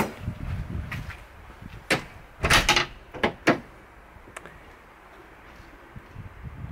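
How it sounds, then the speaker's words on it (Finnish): A door pushed shut at the start of a trip gives a few close, sharp clunks and knocks amid rustling, followed by a quiet stretch of faint background noise. "Painetaan ovi kiinni."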